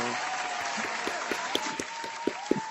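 Clapping comes through faintly, with a few sharper individual claps standing out over a dense background wash, and a voice is heard talking.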